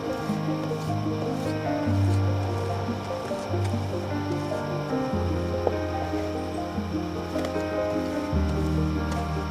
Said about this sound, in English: Then just take your paint pan and pour it back in